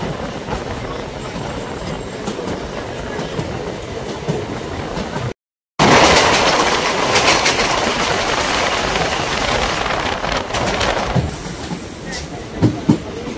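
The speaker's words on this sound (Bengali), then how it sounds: "আমাদের ট্রেন মোড়াগাছা স্টেশন ছাড়লো" A MEMU commuter train pulls out of Muragachha station, a steady rolling rumble with clattering wheels that drops out briefly, then returns louder with faint voices in the carriage.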